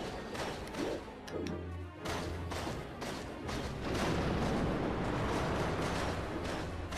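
Bomb fish exploding in Zelda: Twilight Princess, loud crashing bursts and rumbling blasts with water-like splashing, dense and close, followed by a sustained noisy roar.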